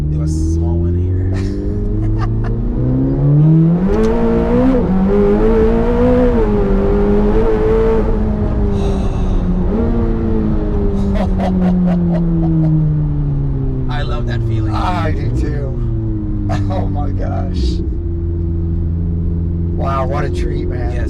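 A 1120 hp Corvette C8 ZR1 accelerates hard from inside the cabin, its engine note rising and falling in loud sweeping harmonic revs across the whole stretch, with occupants talking over the roar.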